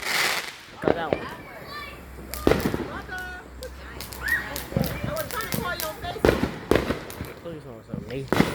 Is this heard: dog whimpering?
no